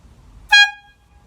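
A bicycle safety horn at its medium volume setting gives one short, sharp toot, loud and bright against a quiet background, cutting off quickly.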